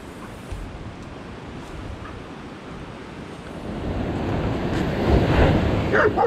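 Ocean waves on a beach at high tide, a continuous near rush of surf with heavy wind buffeting the microphone, swelling louder as a wave breaks toward the end.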